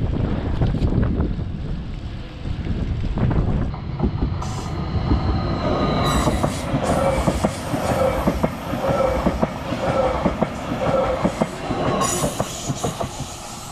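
A train rumbles steadily past nearby in the Dolomites, with clattering wheels and wind noise, then a rhythmic series of regular clunks as the carriages roll by.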